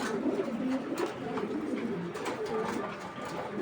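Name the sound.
racing pigeon cooing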